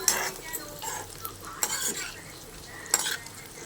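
Pieces of cut boiled egg fry in oil in a pan, a soft sizzle running beneath several sharp clinks and scrapes of a utensil stirring against metal, irregular and close.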